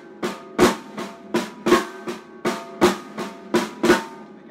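A Gretsch Broadkaster drum set with Sabian Artisan cymbals is played in a steady pattern of flam accents, each grace-note stroke landing just ahead of a louder hit, about a dozen close, ringing strikes with no talking.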